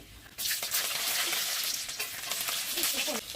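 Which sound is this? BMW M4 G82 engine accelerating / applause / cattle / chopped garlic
chopped garlic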